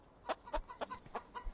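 Chicken clucking in the Bear Simulator video game, a quick series of short, sharp clucks in an uneven rhythm, close and fairly quiet with no talk over it.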